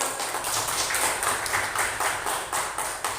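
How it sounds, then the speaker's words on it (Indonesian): A class of students clapping together after a lesson on religious diversity, a steady patter of many hands applauding for about three seconds, fairly loud and continuous with no talk over it. "tepuk tangan buat kita semua"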